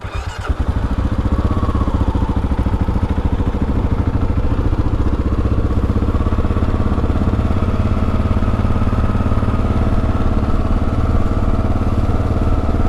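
A 2022 Kawasaki KLR650 motorcycle engine runs loud and close, a steady rhythmic single-cylinder thrum with mechanical clatter that holds throughout after a brief start.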